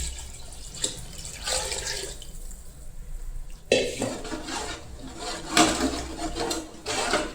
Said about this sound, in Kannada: ಅದಕ್ಕೆ 10 ಕಪ್ಪಷ್ಟು ನೀರು ಇದರಲ್ಲಿ ಆ್ಯಡ್ ಮಾಡ್ತಾಯಿದ್ದೀನಿ